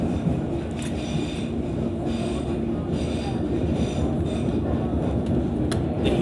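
A London Underground Hammersmith & City line train runs with a continuous rumble and rattle and brief metallic wheel squeals, heard from inside the carriage.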